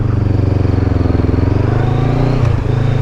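A Honda CBR500 motorcycle carrying a passenger accelerates gently, its engine loud and close with a throbbing, pulsing rhythm, then shifts gear near the end.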